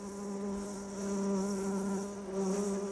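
A steady, droning buzz of bees with a strong hum that holds continuously throughout, fairly close and even in loudness.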